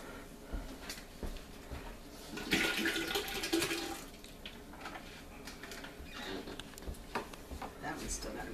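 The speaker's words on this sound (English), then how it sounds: "just leave the water running" Tap water runs during mead making, rising to a loud rushing splash for a couple of seconds, then settling into a softer, steady flow with faint background sounds.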